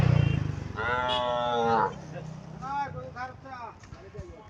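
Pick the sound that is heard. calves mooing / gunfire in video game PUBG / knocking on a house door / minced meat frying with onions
calves mooing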